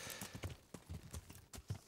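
A white horse's hooves clop in a steady walking rhythm in Kingdom Come: Deliverance, soft and fairly quiet, with no voices.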